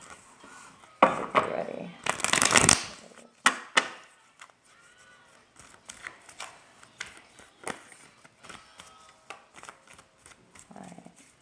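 Tarot cards being shuffled during a reading, with a dense burst of riffling and slapping near the start, then scattered softer card taps and flicks, while a person speaks briefly.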